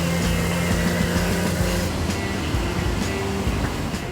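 A Maserati V6 buzzes steadily from inside the low-slung car, a dense, continuous engine drone with a faint rising tone and no voices.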